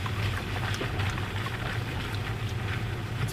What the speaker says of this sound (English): What you're hearing now is mud.